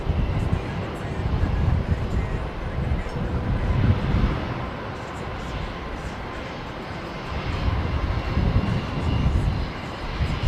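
A Boeing 777 airliner taking off at Heathrow in the evening, a broad, steady engine roar with wind buffeting the microphone, while people chat over it.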